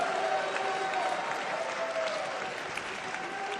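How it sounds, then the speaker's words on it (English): An audience at the Miss World 2021 pageant applauds, a loud dense continuous wash of clapping from a large crowd, with a faint voice briefly audible under it. "Please give a really big round of applause to Julia Morley."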